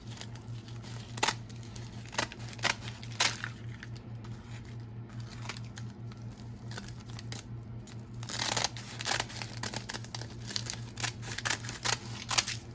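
Scissors snip through sushi nori sheets to cut them into thirds, a series of crisp close cuts and rustles over a low steady hum, no talking.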